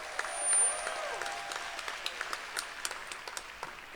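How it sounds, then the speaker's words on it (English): Crowd applause at a city employee appreciation day, moderately distant and steady clapping with occasional louder individual claps, continuing without a break. "Give yourselves another round of applause."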